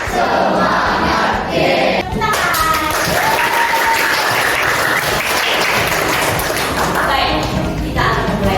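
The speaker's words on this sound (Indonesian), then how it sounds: "kita tepuk semangat dulu" A classroom group doing the rhythmic 'tepuk semangat' spirit clap, loud patterned clapping and thumps mixed with voices chanting and shouting together, continuous and close.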